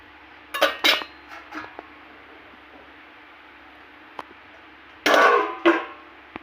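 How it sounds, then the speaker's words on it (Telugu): A lid goes onto an old, thick, heavy cast cooking pot holding mutton curry after stirring. Metallic clanks and scrapes come in two close bursts near the start and end, separated by a quiet stretch. "ఇలా బాగా కలిపేసి మూత పెట్టి ఉంచేద్దామండి."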